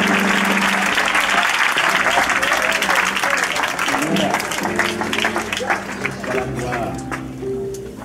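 A church congregation at an Easter service applauds in welcome, with loud, dense clapping that thins out toward the end under voices and speech.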